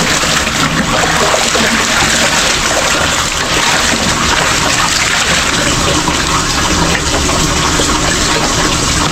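Water gushes from a tap as supply returns, a loud, steady, unbroken rush close by for the whole stretch with no pauses or talk.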